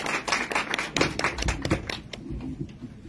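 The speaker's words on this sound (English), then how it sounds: "Let's give her a round of applause." An audience at a cultural talk applauds a Jrai speaker from Vietnam's Central Highlands, a burst of many overlapping hand claps that swells quickly and then thins and fades out, close and lively, with no speech over it.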